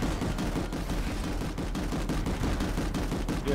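Continuous rapid fire from a Basilisk gun in Planetside 2, a dense, loud, unbroken stream of shots pounding steadily at a fast even rhythm throughout.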